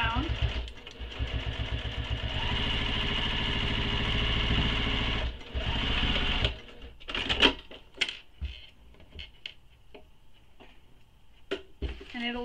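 A sewing machine top stitches down the side of a handmade Squoval bag, a rapid mechanical hum of needle strokes running steadily for several seconds, then stopping, followed by scattered clicks and handling noises.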